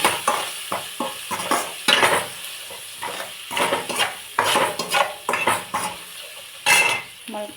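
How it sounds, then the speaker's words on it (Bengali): Salt, cumin and colour powder frying briefly in a pan for a ridge gourd curry, with a spatula scraping and stirring in quick, uneven bursts over a soft sizzle, close and fairly loud. "মশলাটাকে অল্পটুকু ভাজবো।"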